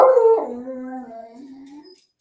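A dog howls close by in one long, wavering, falling cry, then a few faint yips follow as it trails off.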